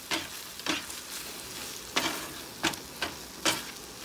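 Sardines sauté with egg and spinach in a hot pan, giving a steady sizzle broken by several sharp scraping stirs at irregular intervals, near and with no talking.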